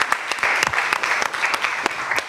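An audience applauds warmly at a spelling contest, a dense burst of claps close by that stays steady before thinning out.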